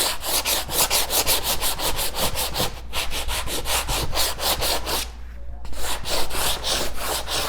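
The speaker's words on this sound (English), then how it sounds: "I can use, and in this case, 80 grit sandpaper. And sand these areas down." Coarse 80 grit sandpaper rubs across the surface of a painting in fast, even back-and-forth strokes, loud and close, with one brief pause near the end.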